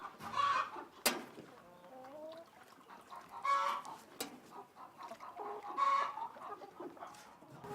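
Chickens cluck in a poultry house where the birds are feeding, with repeated soft clucks and short calls scattered through the scene, a couple of sharp knocks, and a busy barn ambience.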